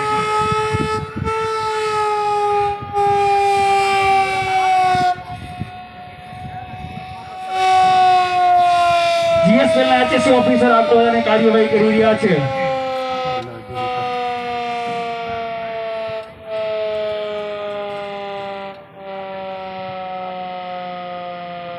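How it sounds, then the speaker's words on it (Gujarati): An emergency siren at a GSPL site, warning of a level 3 fire, wails loudly in long sustained tones that shift pitch, while someone talks over it throughout. "જીએસપીએલ ની ટીમ દ્વારા એ સાયરન વગાડીને લોકોને જાણ કરી રહ્યા છે કે અહીંયા લેવલ 3 ની ઇમરજન્સી સર્જાયેલી છે"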